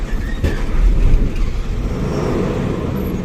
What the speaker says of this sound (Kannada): ಆಹಾ, ಟ್ರೈಲರ್ ಗಾಡಿ ಓಡಿಸಿದಾರೆ ಅಕ್ಕ.